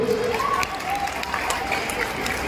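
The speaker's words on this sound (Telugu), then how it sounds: "సుధాకర్ కోసం గట్టిగా చప్పట్లు." Crowd at a Telugu TV entertainment show claps steadily for Sudhakar, a full even applause with a voice speaking on top.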